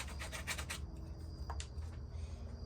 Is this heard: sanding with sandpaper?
yes